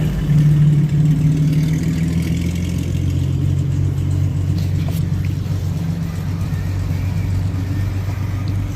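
A 1989 Jeep Comanche short bed with the 4.0 engine and five-speed runs close by, a steady low rumbling idle that holds evenly throughout with no voices.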